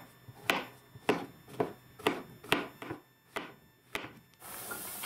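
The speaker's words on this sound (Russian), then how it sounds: "Грибы нарезаем меленько и отправляем на сковороду" Mushrooms being finely chopped with a knife on a board, about ten distinct rhythmic knife strokes at an unhurried pace, close and clear, followed by a soft hiss like food starting on a pan.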